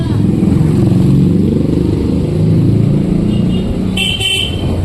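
A blue Hero Xtreme 125R motorcycle rides through a town neighbourhood at speed, its engine a steady loud drone under road noise, with a brief bright horn-like toot near the end.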